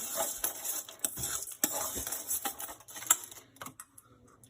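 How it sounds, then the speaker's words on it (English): Soft pet food mixed with vegetables is stirred round in a bowl, giving a busy run of wet scraping and light clinking strokes, close and moderately loud, without talk. "Give that a bit of a stir round."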